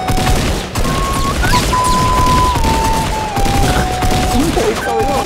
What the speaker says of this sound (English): I just had shotguns galore going off.